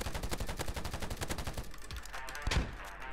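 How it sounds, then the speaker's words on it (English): Rapid M16A4 rifle fire in the shooter game Polygon, a fast, steady string of close, punchy shots that thins into scattered bursts, ending with one heavier loud report near the end. "I'm missing all my bullets, apparently."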